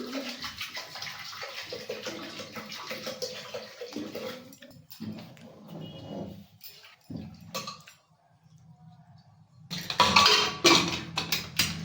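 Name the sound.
water poured into a pressure cooker with rice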